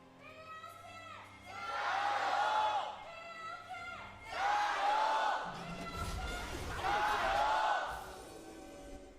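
An esports arena crowd roars and cheers in three big swells at a League of Legends match, each rising and fading, with shouting voices high in the mix and brief lulls between.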